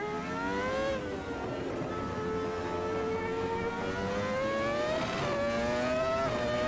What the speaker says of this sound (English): Bit of traction control on this car as well, so you can just hear it starting to kick in off the exit of those corners.